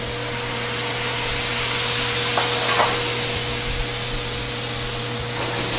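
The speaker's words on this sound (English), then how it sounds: "So we're just going to gently simmer that." Parmesan broth with blanched ricotta gnocchi simmers gently in a pan over a flame, producing a soft steady hiss and bubbling under a low background hum, with a couple of faint clinks.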